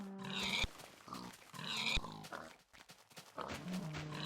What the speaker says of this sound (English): there's just too many fucking pigs.